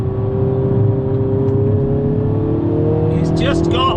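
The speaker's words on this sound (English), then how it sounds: "It does sound good, this motor though." A Mini John Cooper Works Clubman engine accelerates up a hill in a steady, close, droning hum whose pitch climbs slowly, with a brief voice near the end.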